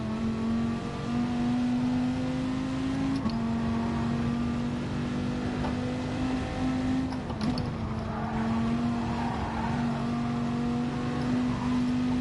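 A race car engine from a Nürburgring racing video game drones steadily at high revs, the pitch holding level with brief dips at gear shifts, loud and continuous with no talk.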